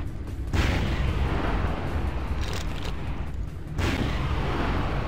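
Dense rumbling booms from explosions in the game Vampire: The Masquerade – Bloodlines, a continuous loud roar of blasts with two sharp surges about three seconds apart and no talking.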